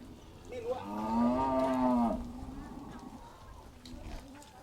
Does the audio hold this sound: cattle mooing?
yes